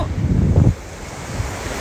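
Sea waves wash onto the beach at Langeron in Odesa, a loud surge of surf that breaks and recedes into a softer hiss, with wind buffeting the microphone throughout.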